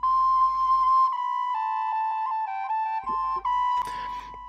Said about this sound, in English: it just helps me tighten the whistle, help have it just right in the mix